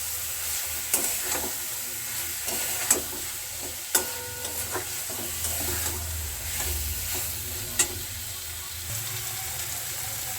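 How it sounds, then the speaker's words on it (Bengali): Boiled potatoes are stir-fried in a cooked-down spice masala, giving a steady soft sizzle under repeated scraping and knocking strokes of a spoon in the pan, with no talking. "এবার সেদ্ধ করে রাখা আলুগুলো এই কষানো মশলার মধ্যে দিয়ে দিলাম।"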